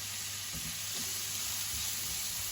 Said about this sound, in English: We're just going to sweat them down with no colour, just until they soften up a little bit